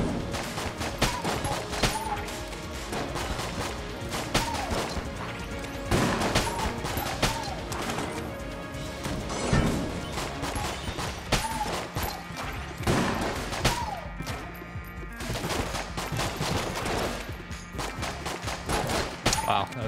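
Gunfire in Enter the Gungeon: continuous rapid-fire shooting with bursts of shots and impacts layered over game music, dense and unbroken for the whole stretch.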